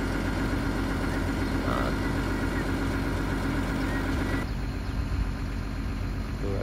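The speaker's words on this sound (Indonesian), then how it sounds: "siap-siap akan beroperasi mesinnya eskavator. Jadi cek engine dulu sebelum mulai." Diesel excavator engine idling at a roadside excavation site before the morning's work begins, a steady continuous rumble heard alone without any talk.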